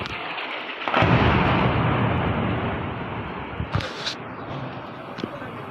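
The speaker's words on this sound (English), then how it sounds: "The sounds of explosions during those strikes." A deep, rumbling blast from Indian military strikes in Pakistan and Pakistan-administered Kashmir swells up and rolls on for several seconds, followed by a few sharper distant thuds and cracks.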